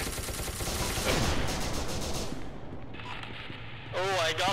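Gunfire in an SCP video game, a dense run of game shots and bursts through the first half, then fading into a calmer stretch with a voice speaking near the end.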